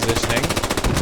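Rapid, evenly spaced machine gun bursts from a video game firefight, loud and close, roughly a dozen rounds in one second with no pauses.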